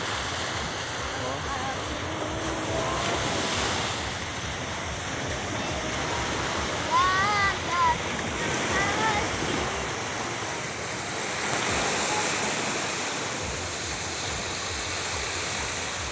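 Sea surf and wind on a beach form a steady, loud, broadband wash that holds through the whole stretch, with brief faint vocal sounds around the middle.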